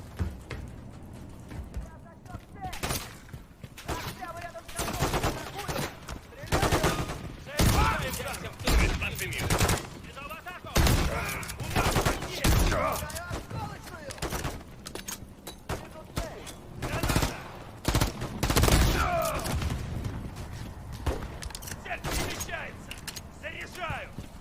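Rapid bursts of gunfire in the Call of Duty Modern Warfare 3 campaign, a gulag mission, with repeated automatic volleys and single shots crackling through the whole stretch while someone talks over the action.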